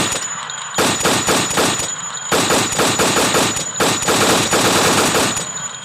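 An AK rifle fires in a video game in several loud, close automatic bursts of rapid, evenly spaced shots, separated by brief pauses.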